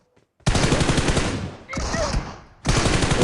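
Rapid bursts of gunfire in the PUBG Mobile video game, loud and close, two long volleys separated by a brief pause, with a third burst starting at the end.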